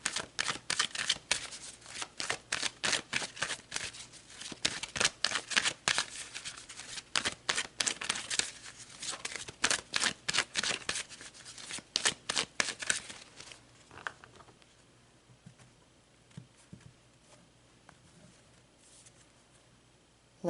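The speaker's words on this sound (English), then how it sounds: "So let's pull some more cards." Tarot cards are shuffled by hand close by, a long series of crisp riffling flicks and taps in a brisk rhythm that fades into quiet handling toward the end.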